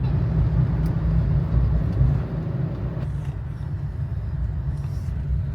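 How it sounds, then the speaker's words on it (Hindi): Steady low road rumble of a car cruising along a highway while running on CNG, heading toward Manali, a continuous even drone with no voices. "तो अभी तक गाड़ी सीएनजी पर ही चल रही है"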